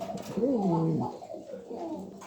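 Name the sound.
Spanish pouter pigeons cooing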